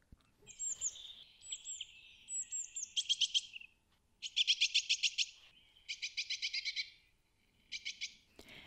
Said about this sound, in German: als ich eines Morgens vom munteren Gezwitscher eines Vogels geweckt wurde